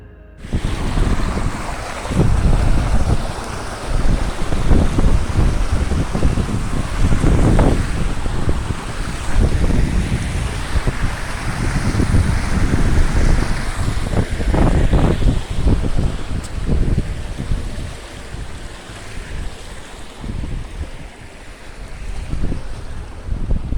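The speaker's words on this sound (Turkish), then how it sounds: "Yani buradan akan su aşağıda gördüğünüz o köprüyle bağdaşık olup o şelaleden akıyor." Rushing water from a waterfall beneath a bridge, a loud continuous roar with heavy wind buffeting the microphone, steady for the whole stretch with no voices.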